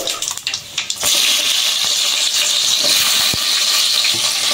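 Chopped onions hit hot oil with tempering seeds for a fish curry, setting off a loud, steady sizzling hiss after about a second, preceded by a few faint clinks and rustles.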